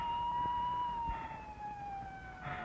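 Faint in the distance, an ambulance siren sounds a steady wailing tone that slowly dips in pitch, with low muffled rumble and noise beneath it.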